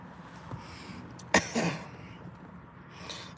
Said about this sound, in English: Let me clear my throat like she did